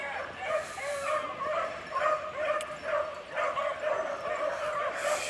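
Several dogs in a cluttered backyard yip, whimper and bark at feeding time, a continuous, excited, fairly near chorus running the whole stretch with a voice now and then mixed in.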